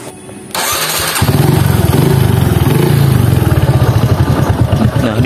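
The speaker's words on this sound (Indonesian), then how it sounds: "kita coba starter ya" A Honda Supra X 125 motorcycle engine is cranked by its electric starter, catches and settles into a loud, steady, rapidly pulsing idle close by.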